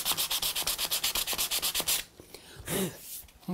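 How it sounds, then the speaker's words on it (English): Hand sanding of a solid wood door surface: a quick rhythmic series of close scratchy rubbing strokes, then a short pause and a few slower strokes. "because it's solid wood, just sand them out"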